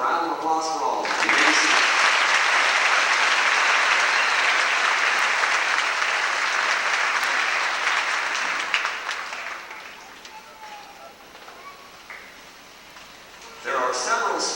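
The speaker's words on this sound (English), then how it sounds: "Let's have a round of applause for all of them" A high school graduation audience applauds award recipients with loud, sustained clapping that fades after about nine seconds, and a speaker's voice comes in at the start and end.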